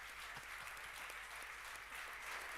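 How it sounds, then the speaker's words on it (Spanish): Applause from a seated audience at a tribute event honoring a guest, a steady dense patter of clapping at low, somewhat distant level with no voices over it. "un aplauso para él"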